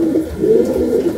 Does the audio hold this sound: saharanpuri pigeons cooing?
yes